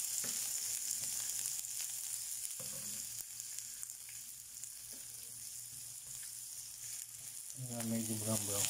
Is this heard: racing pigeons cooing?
no